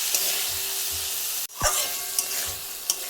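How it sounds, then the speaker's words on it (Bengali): Fried mushrooms being stirred into a spice masala in a pan, with a steady close sizzle and repeated spatula scrapes and knocks, one sharp clack near the middle, and no talking. "এখন দিয়ে দেব ভেজে রাখা মাশরুমটা যাতে মশরুমের ভিতরেও আমাদের এই সমস্ত মশলাটা"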